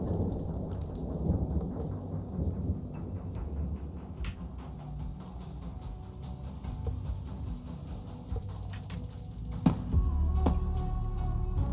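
Steady rain and rolling thunder in a Minecraft game world, continuous patter with low rumbles and a sharper crack near the end, no talking.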